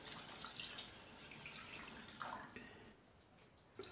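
Water from a glass is poured into the masala for egg curry (anda kadi), a soft, faint splashing and trickling that runs steadily and then tapers off.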